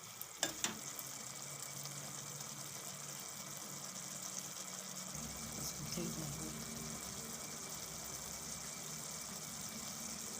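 An onion and gathiya curry bubbles and sizzles steadily in a pan after water is added, with a soft, constant hiss, a low simmering rumble growing slightly fuller partway through.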